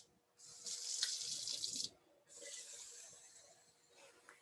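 Cold water runs from a tap into a cooking pot for rice, a steady splashing pour that stops briefly and then resumes for a second stretch, close and fairly quiet with no talking.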